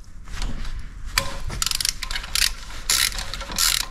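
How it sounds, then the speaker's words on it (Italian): A ratchet wrench clicks in quick bursts while unscrewing the glow plugs on a 2009 Renault Scenic with a 1.5-litre engine and 210,000 km, with a sharp knock among the close, crisp pawl clatter. "Cricchetto e botta secca."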